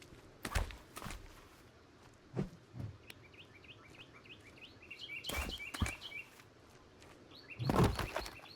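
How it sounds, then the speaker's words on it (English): Footsteps in Sons of the Forest, a few scattered soft thuds and scuffs on forest ground, irregular and fairly faint, while birds chirp continuously in the surrounding woods. "Did I just hear footsteps?"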